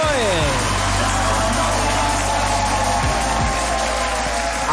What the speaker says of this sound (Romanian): haideți cu un rând de aplauze pentru Teddy Stroie.